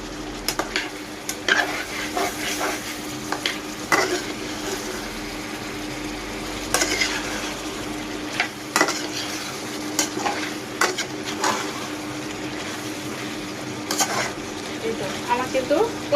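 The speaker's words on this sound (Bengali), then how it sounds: "লাউ থেকে বেশি পানি উঠে নাই একটু পানি উঠেছে এটা কষিয়ে নেব খুব সুন্দর করে" Chicken and bottle gourd sautéing in a pan, a steady sizzle broken by repeated scraping stirs and clinks of a utensil, close and moderately loud throughout.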